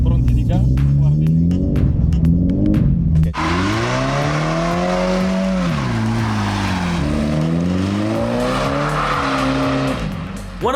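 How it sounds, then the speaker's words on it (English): A drifting car in third gear with the throttle held open, its engine revving loud and sliding up and down in pitch while the tires squeal through the slide, sustained and close for most of the stretch. "Inseriamo di terzo, subito pronti di gas, guardi."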